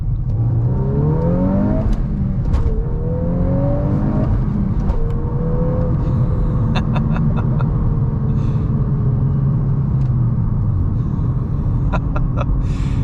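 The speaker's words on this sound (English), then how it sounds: "we'll do a quick first to second pull here" A 2024 VW Golf R with a manual gearbox revs hard and climbs in pitch in first, drops briefly at the shift to second, then climbs again, loud and close with a steady rumble underneath.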